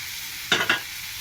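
Sliced okra and potato in a frying pan, a soft continuous sizzle broken by two quick stirring scrapes close together.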